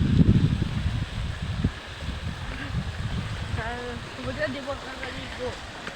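A shallow, drying creek runs steadily over stones in a broad wash, with voices talking and calling over it and a louder rustle near the start.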